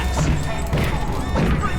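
A breakable glass tank smashes in The Amazing Spider-Man on PS3, a loud crash followed by heavy thuds and debris impacts in two bursts over rumbling game ambience.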